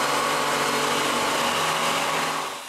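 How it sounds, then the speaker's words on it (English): A power drill bores holes into wood to seat electrical boxes for a homemade wooden bandsaw, a loud, steady high-speed whine throughout that eases off slightly near the end. "Then I drill a small hole, so I know where to drill a bigger hole from the back"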